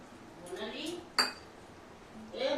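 Fried bitter gourd pieces go into a pot with boiled potatoes, giving a few close metallic clinks and scrapes of a utensil against the pot, with brief murmured voice sounds around them.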